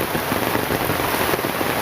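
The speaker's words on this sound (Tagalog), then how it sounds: "ganito ganito yan dito sa amin pag malakas ang ulan ganito na" Heavy rain pours down steadily during flooding, a loud, dense continuous hiss of drops beating on surfaces close by, with no voices.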